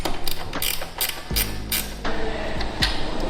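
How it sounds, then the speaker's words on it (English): Ratcheting spanner work on 10mm bolts during assembly of a FunBikes Ranger 1000W electric bike: rapid metallic ratchet clicks in bursts, close and fairly loud, with heavier clunks between strokes and no talk. "we're going to take these 10mm bolts out"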